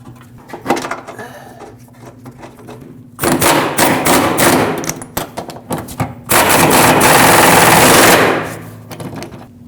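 A power tool drives two 14mm bolts into a Honda Pilot carrier bearing bracket: two loud rattling bursts, the second longer, separated by scattered clanks and thumps of handling up close.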